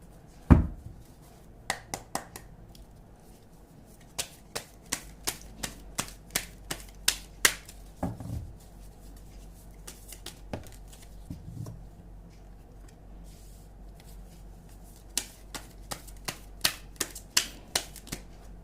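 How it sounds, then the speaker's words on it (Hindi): Tarot cards being shuffled by hand, sharp irregular riffles and taps close by, dozens of short bursts spread across a quiet room with no talk. "कार्ड शफल कर लेती हूँ।"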